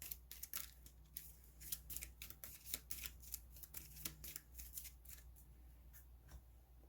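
A deck of cards for the Legendary Marvel board game being shuffled by hand, a run of quick, crisp riffling bursts in close succession, close and fairly quiet, with no talk.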